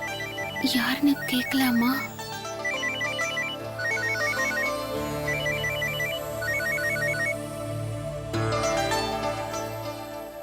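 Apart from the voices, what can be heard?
phone ringing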